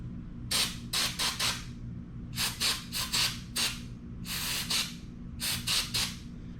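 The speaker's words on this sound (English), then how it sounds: "we're gonna give those a spray" Four bursts of aerosol spray onto the electrical contacts of a 2020 Nissan Armada door lock actuator, each a cluster of short hissing squirts, close to the mic over a low steady hum.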